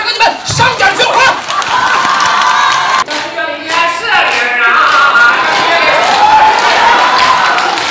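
A lively audience at a Chinese comedy stage show cheers, whoops and claps loudly and continuously, a dense crowd roar with shouts rising and falling throughout.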